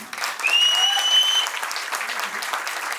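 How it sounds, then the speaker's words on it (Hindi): An audience at a sapphire celebration event breaks into loud, sustained applause, dense clapping throughout with a brief whistle near the start. "सबके लिए जोरदार ताली होनी चाहिए और सभी परिवारजनों के लिए जोरदार ताली होनी चाहिए।"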